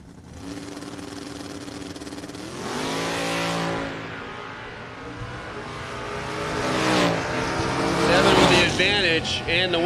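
Drag race cars, a Chevrolet Nova and a Vega Wagon, rev hard and accelerate down the strip in a rising engine roar, with an announcer talking over the noise.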